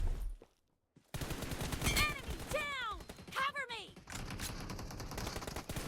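Gunfire in the battle royale game PUBG: several bursts and single shots crack out under a steady game soundscape, with a brief drop to near silence early on and a short pause near the end.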